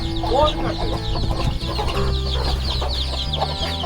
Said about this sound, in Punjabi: ਇਹ ਸਾਰੇ ਪਹਾੜੀ ਮੁਰਗੇ